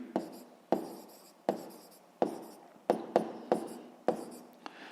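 A pen writes by hand on paper for a math exercise on converting litres and cubic decimetres, giving a series of about nine sharp scratching strokes, each fading quickly, close and clear without talk.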